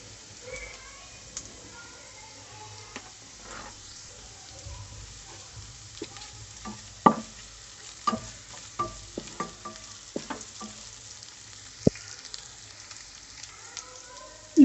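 Onion with ginger-garlic paste fries in oil alongside cinnamon, cardamom and bay leaves for a chicken and bottle gourd curry, a quiet sizzle under repeated sharp spatula scrapes and clanks against the pan, close by.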